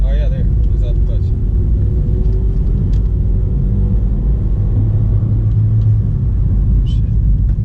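Manual-transmission car engine rumbling steadily at low pitch as the clutch is let out and gas is added during a standard-shift driving lesson, with people talking in the cabin.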